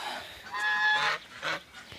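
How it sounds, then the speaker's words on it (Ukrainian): Geese honk nearby: a long nasal call followed by a shorter honk, loud and close, with no voices. "Гусечки п'ють свіженьку водичку"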